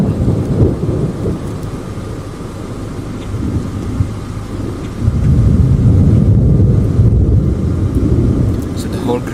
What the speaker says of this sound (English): The whole ground is shaking with each thunder.